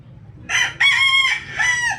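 A fighting cock of about two years crows loudly and close, one full crow broken into short bursts with quiet yard noise in the background.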